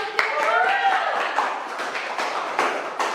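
Students in a biology microteaching classroom clap briefly, a short burst of scattered, uneven claps heard close by and mixed with voices.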